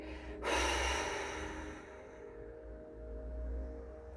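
During an energy healing exercise, a single forceful exhale rushes out close to the microphone, then fades into softer breathy air over a low background hum.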